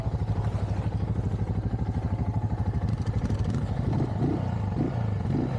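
A motorcycle engine idles and is revved in neutral, a steady close putter with a few short throttle blips toward the end.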